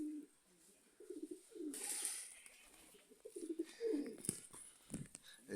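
Pigeons coo repeatedly at close range among black and dark-coloured birds and their chicks, soft throaty bursts coming in irregular clusters with a flutter of wings in between.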